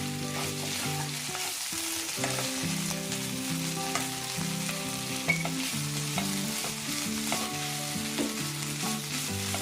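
Kerala-style chicken thoran fries in coconut oil with a steady close sizzle while a spatula stirs and scrapes the pan in irregular strokes, with no voices.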